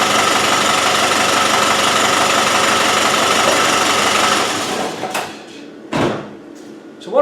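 A Land Rover 200Tdi diesel engine with a blowing exhaust idles in a steady, loud drone for several seconds, then cuts off abruptly, leaving a few faint knocks and clunks.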